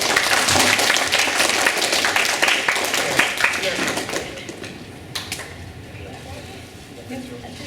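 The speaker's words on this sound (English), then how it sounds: "It's okay to clap." Audience applause at a 2022 DARE graduation ceremony, a dense wash of many hands clapping loudly at first, then thinning and fading toward the end with a few scattered claps remaining.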